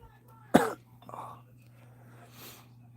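A single sharp cough close by, followed by a softer throaty sound and a faint breathy exhale against a low steady hum.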